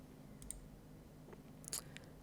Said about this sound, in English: I'm going to click on the white circle